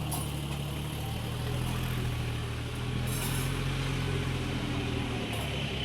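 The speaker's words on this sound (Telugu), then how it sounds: "ట్రాక్టర్ సౌండ్ వినపడిద్దేమో మీకు." Tractor engine running steadily at a distance, a low continuous drone that holds level throughout with no voices over it.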